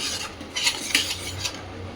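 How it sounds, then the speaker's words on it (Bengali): Coconut paste made from tender green coconut being stirred into a masala in a pan for a stuffed pointed gourd chicken malai, with a few soft scraping strokes over a faint steady cooking hiss. "এবার সেই নারকেল বাটাটা, কচি ডাবের যে নারকেলটা ছিল সেই বাটাটা দিয়ে দিলাম, সেটাও এবার একসাথে খুব ভালোভাবে আমি কষিয়ে নেব।"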